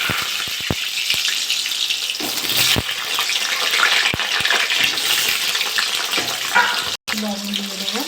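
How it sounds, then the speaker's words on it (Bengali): Potatoes frying in hot mustard oil in a wok, a loud steady sizzle and crackle running throughout with occasional clinks of a utensil. "তেলটা গরম হয়ে গেছে, আমি আলুগুলো ভেজে নেব।"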